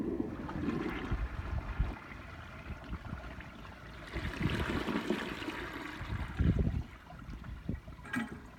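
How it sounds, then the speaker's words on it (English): A 1968 Norris forward-trap toilet flushes with a steady rushing, gurgling swirl of water that swells midway and tapers toward the end, heard close and without talk. "Guys, here's the Norris toilet flushing."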